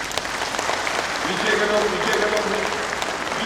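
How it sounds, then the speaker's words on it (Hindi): Audience clapping at an outdoor political election rally in Namsai, Arunachal Pradesh, with steady applause of moderate loudness running throughout under a voice speaking. "हाथ उठाकर तालियां बजाइए"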